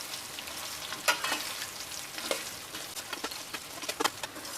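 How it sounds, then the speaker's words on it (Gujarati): Steamed Gujarati muthiya made with leaves fry in a pan with sesame seeds and curry leaves, a soft, steady sizzle broken by scattered sharp crackles and scraping stirs, fairly quiet and close. "હવે આપણે આ મુઠિયા એડ કરી દઈશું. સારી રીતે મિક્સ કરી લઈશું."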